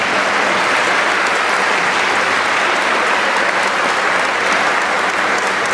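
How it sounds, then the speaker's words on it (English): A middle school promotion crowd gives steady, loud applause throughout, a dense wash of clapping from many hands with no voices standing out. "give a shout out and a round of applause to everyone"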